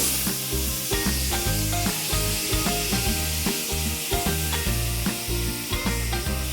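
Soaked basmati rice tipped into caramelized onions in a pot, giving a steady close sizzle and frying hiss with stirring scrapes and a low background hum, no talking.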